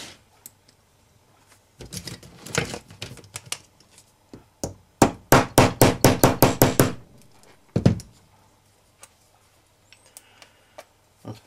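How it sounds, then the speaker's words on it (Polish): Roller axle on a Pioneer CT-F1000 cassette deck being hammered out, with scattered taps followed by a fast run of about ten sharp, evenly spaced metallic blows, close and crisp, then a final strike and light clicks. "Jak to się mówi, bez młota to nie robota, więc trzeba tutaj użyć młota."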